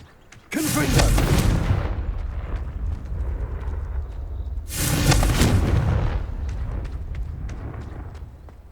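A Confringo fire spell from Hogwarts Legacy goes off in two loud booming blasts about four seconds apart, each one followed by a rumbling tail that keeps ringing as it fades.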